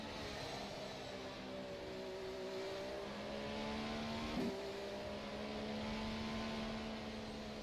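A Formula SimRacing FSR 2018 development car in rFactor 2 hums at moderate volume, its engine tone holding steady then stepping up after a short blip midway, continuous and fairly close, with no voices.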